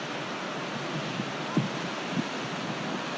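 Sea waves at Byron Bay rolling in as a steady broad wash of surf, with a couple of faint thumps and some wind noise, continuous and without talk.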